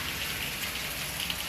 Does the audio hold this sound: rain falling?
yes